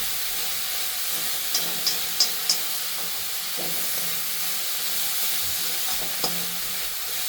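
Vegetables for momos sizzle steadily in a hot pan while a utensil occasionally scrapes and clinks as the contents are stirred.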